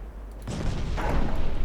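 Naval gunfire in the Ultimate Admiral Dreadnoughts video game, heard as a rumbling, sustained boom that swells after a brief lull and rolls on at a moderate, fairly distant level with no talk.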